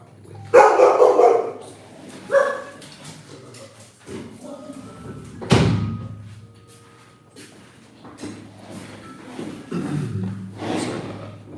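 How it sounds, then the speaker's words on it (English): Indoor dogs barking and yipping repeatedly over several seconds in irregular bursts, some loud and close, others fainter, with scattered household knocks between them. "Otherwise the dogs will be in here barking their asses off."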